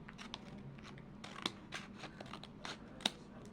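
Scissors cutting into a closed cardboard box, giving quiet crisp snips and crunches with two sharper clicks, close and alone.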